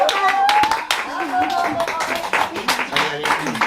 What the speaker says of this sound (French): Venez vous faire applaudir